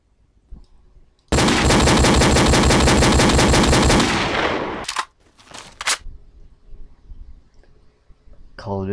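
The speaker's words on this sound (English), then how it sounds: "Call of Duty 4 sound bites." Call of Duty 4 machine gun fire, a dense, loud sustained burst of about three seconds followed by a few sharp shots and clicks, with quieter background sounds afterward.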